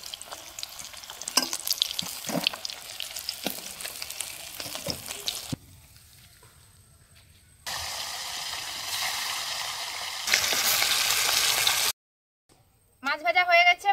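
Katla fish pieces fry crisply in oil, with sizzling and stirring scrapes at the start. The sizzle later gives way to a near-silent gap and then bursts of loud, bright, hissing noise.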